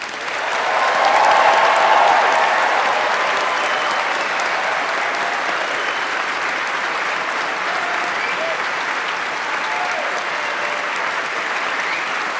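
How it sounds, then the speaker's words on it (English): A graduation ceremony crowd breaks into sustained applause and cheering, a broad, even wash of clapping that swells early and carries on steadily throughout. "I'd like to ask you all to offer a final round of applause to recognize your achievements, and please make some noise"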